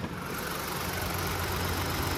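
The 1.5-liter turbocharged three-cylinder engine of a 2023 Ford Bronco Sport idling with a steady, slightly uneven low chug and a soft mechanical whir, heard alone at a moderate level.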